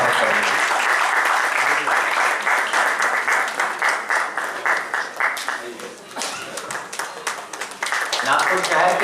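Loud, sustained crowd applause greets an award recipient at the Zero Mile Icon Award function in Nagpur, with a brief dip in the middle before the clapping swells again.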